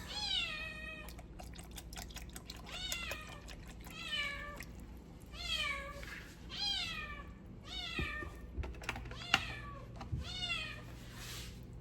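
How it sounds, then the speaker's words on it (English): New kitten meowing inside a house, a series of clear, repeated mews spaced every second or two, moderately close over a quiet room. "Welcome to the life of a house with a new kitten."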